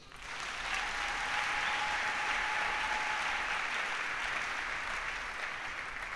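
A church congregation breaks into sustained applause, a dense, even roar of many clapping hands that swells quickly and holds steady for several seconds, fairly close, with no voices over it.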